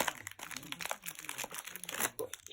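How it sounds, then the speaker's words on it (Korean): A plastic Beyblade toy package is cut open with scissors: steady, close crinkling and crunching of packaging, with a voice talking at moments. "저가 지금 까고 있답니다. 이렇게 가위로."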